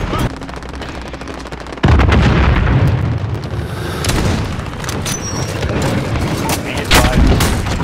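Rapid video-game gunfire from a Desert Eagle pistol in a shooter match, loud repeated sharp shots and bursts stacked over ongoing battle noise throughout.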